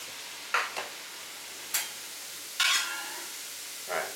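Mickey-shaped pretzels are dunked into liquid in a kitchen, giving a few brief splashy fizzing bursts, spaced irregularly over a quiet background with no talking.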